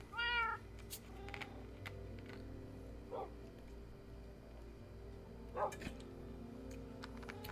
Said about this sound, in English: Yes, so, we have cats.